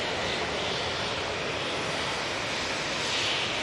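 A Jet2 airliner's jet engines roar steadily at Manchester Airport, a loud, continuous broadband rush holding level throughout with no talk over it.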